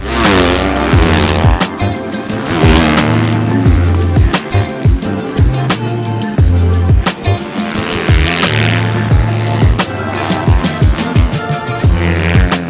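Suzuki 450 motocross bikes racing on a hard-pack track, loud buzzing engine revs rising and falling continuously, with repeated sharp bursts as the bikes pass close.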